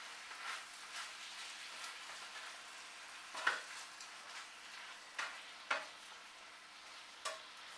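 Stir-fried duck and vegetables in sauce being stirred and folded in a pan, soft steady sizzle with several distinct scraping clacks of the utensil at irregular intervals, fairly quiet and close.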